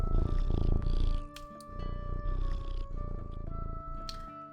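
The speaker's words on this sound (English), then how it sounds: "Here's another cat who has a house." A cat purring in the game Teddy's Haven, a steady rhythmic rumbling purr heard up close with no talk over it.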